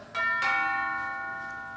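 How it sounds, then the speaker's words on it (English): Doorbell chime in an old radio drama, two bright ringing bell tones struck in quick succession and left to decay slowly, clear and alone with no voices. "doorbell's ringing."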